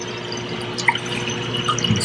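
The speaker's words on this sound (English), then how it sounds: "My leaking protein skimmer." Water dripping from a leaking protein skimmer on a 55-gallon reef aquarium: a few small, distinct drips and plinks over a steady low hum of pumps, with no talk.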